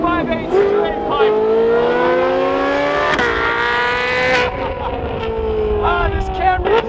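A Ferrari 458 with a straight-pipe exhaust revs hard and close, its sustained wail climbing and holding in long loud pulls with a brief dip midway.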